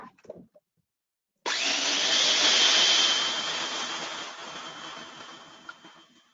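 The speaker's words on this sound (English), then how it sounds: "I'm gonna grind up those spices now" An electric spice grinder grinds whole spices for a Szechuan cumin lamb stir-fry, starting abruptly as a loud, steady whir that holds for several seconds and then eases slightly in intensity.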